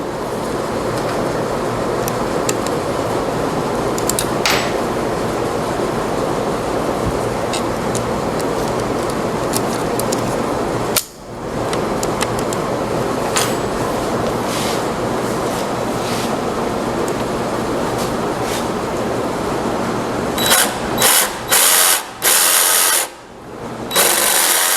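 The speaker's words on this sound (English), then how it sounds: "I'm gonna put it in my jigsaw and see if it'll work." A jigsaw fitted with a scroll saw blade cutting wood in a carpentry shop, a loud continuous buzzing whine with one brief pause, then choppy stop-start bursts toward the end, close and alone.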